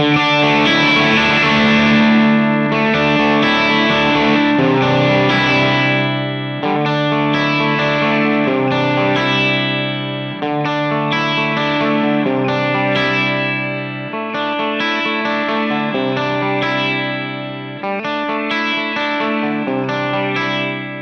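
Distorted electric guitar chords ring out with a chorus-like wash, sustaining loudly at full volume, then the overall level and grit drop back in several steps as the guitar's volume knob is lowered.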